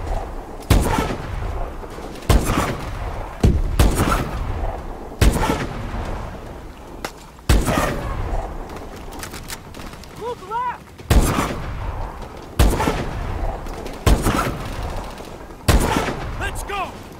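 Gunfire in the video game Call of Duty: Advanced Warfare fills a battle, with loud repeated shots and short bursts about every one to two seconds, close and punchy, while voices talk between them.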